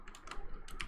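Soft, quick keystrokes on a computer keyboard, a short burst of a few taps close by and fairly quiet, with no voices.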